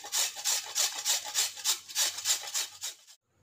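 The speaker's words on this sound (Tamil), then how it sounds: "இப்போ நம்ம நெல்லிக்காயை இந்த மாதிரி துருவி எடுத்துக்கணும்" Indian gooseberries (amla) are rubbed against a metal hand grater in quick, even strokes, about a dozen close raspy scrapes in a steady rhythm before stopping abruptly.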